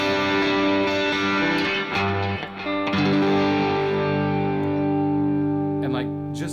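Heavily distorted electric guitar played through a Kemper amp, sustained chords ringing loud and saturated with a brief dip mid-phrase, close and dense with faint background voices.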